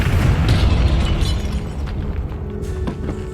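In the video game Hogwarts Legacy, a Confringo blasting spell goes off in a tomb. A loud, rumbling explosion bursts out at once and then decays into a debris-laden roar with a few sharp crackles.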